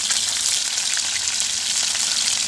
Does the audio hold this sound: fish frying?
yes